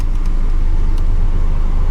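A car engine idles loudly and steadily with a deep, even rumble while an alarm is being rewired, with a couple of faint high ticks early on and no voices.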